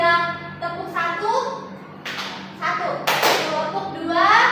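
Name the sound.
class clapping hands in a 'tepuk satu' clap game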